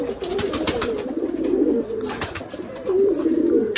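Rajshahi Giribaz pigeons coo in low, throaty repeated calls close by, rising and falling in waves over faint rustling and soft background chirps.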